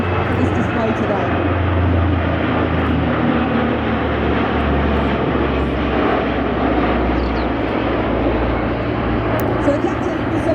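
Royal New Zealand Air Force C-130 transport aircraft flying in an air display at an airshow, a steady loud propeller-engine drone sustained throughout with a low rumbling hum and crowd ambience.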